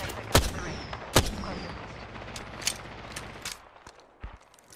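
Gunfire in the Apex Legends video game, several sharp separate shots spaced irregularly across the stretch, some close and loud, others fainter, with a low rumble beneath and no talk.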